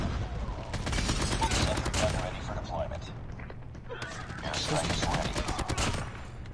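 Rapid AK-47 automatic fire in Call of Duty Mobile, continuous close bursts rattling throughout, with a brief lull in the middle, while a player talks over the shooting.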